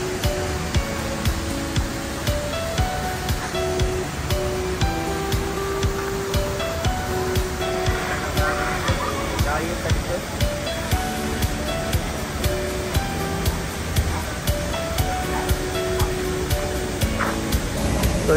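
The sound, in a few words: waterfall in Camiguin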